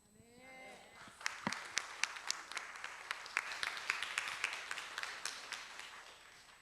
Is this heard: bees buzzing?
no